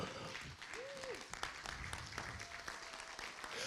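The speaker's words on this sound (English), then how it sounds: "Big round of applause, ladies and gentlemen," Conference audience applauding as a speaker walks up to the stage at a Pan African conference on illicit financial flows and taxation, a faint, steady patter of clapping from a moderate distance.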